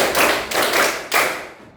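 Children clap their hands in a counting game, three sharp bursts of claps close by, each ringing briefly before the next, with no voices over them.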